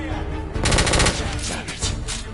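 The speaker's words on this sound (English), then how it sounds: "I'm taking suppressive fire." Rapid automatic gunfire in The Order: 1886, a dense burst of loud shots that swells in the middle and continues in a steady rattling stream, with game sounds layered underneath.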